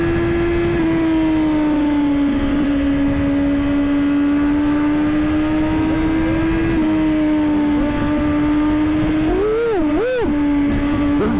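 A Honda CBR 1000 sport motorcycle engine under way on a ride, a loud, steady droning hum with wind rush, rising in a couple of quick revs near the end.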